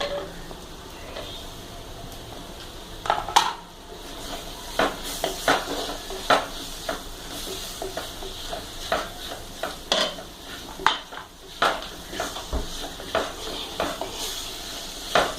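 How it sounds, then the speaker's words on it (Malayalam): Tomatoes sauté in a pan for a fried sardine curry, with a low sizzle under a series of sharp, irregular scrapes and clinks of a spoon stirring against the metal pan. "തക്കാളി ഇട്ടിട്ട് ചെറുതായിട്ടൊന്ന് വഴറ്റിയതിന് ശേഷം"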